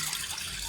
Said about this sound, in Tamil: இதில் தண்ணி கொஞ்சம் ஊற்றிட்டு